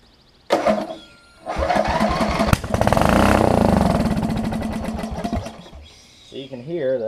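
A Craftsman LT4000 lawn tractor's small engine sputters to life, runs with a rough, rising drone, then winds down; a voice speaks briefly at the end.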